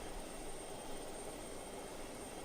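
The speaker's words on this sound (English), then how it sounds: "There's 2 helicopters flying around it." Two helicopters circle a giant nuclear submarine in the video game Just Cause 2, their engines a steady, broad rotor-and-turbine drone that holds even and unbroken throughout.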